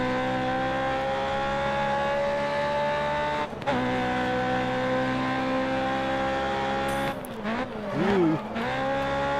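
Race car engine in the racing game GRID: Autosport, a loud steady high revving drone held at constant pitch, briefly dipping mid-clip, then wavering up and down with a short tire squeal near the end.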